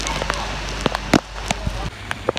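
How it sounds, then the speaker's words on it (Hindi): Steady heavy rain hisses over a hard street surface, with scattered sharp drips and splats close by. "आप ये देखो गली में कितनी बारिश ज़ोर से हो रही है।"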